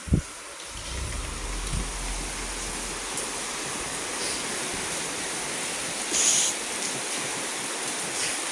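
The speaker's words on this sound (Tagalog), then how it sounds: "Sobrang lakas ng ulan, oh." Heavy rain pouring down in a steady, dense hiss that stays constant throughout, with a brief knock near the start and a faint sharp noise in the middle.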